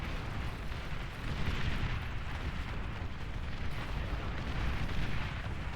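Artillery fire in the real-time strategy game Beyond All Reason, a dense, continuous rumble of overlapping explosions and booms, loud and steady throughout with no pauses.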